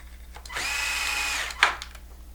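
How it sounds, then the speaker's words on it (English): One short burst from a power driver running a 10mm screw down into an RX box on a Traxxas XRT, a steady whine lasting about a second that ends in a sharp click as the screw seats. "take the 10mm screws and screw down your RX box"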